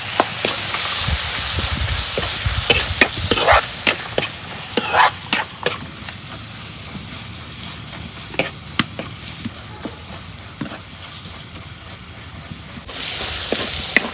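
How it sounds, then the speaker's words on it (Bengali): Spices such as radhuni, cumin, salt and garam masala sizzle in hot oil while a spoon scrapes and stirs them in the pan, with sharp clattering stirs over a steady hiss that swells again near the end. "তেলের মধ্যে মশলাগুলো এখন ভাজা ভাজা করে নিই"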